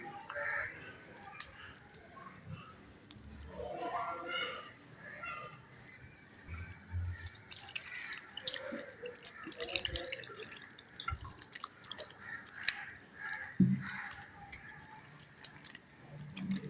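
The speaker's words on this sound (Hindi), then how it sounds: "खूब अच्छी तरह से हमें मछली को इस तरह से मल के धोना है।" Fish coated in gram flour and salt is rubbed and washed by hand, with running and dripping water and wet splashes close by under intermittent talking.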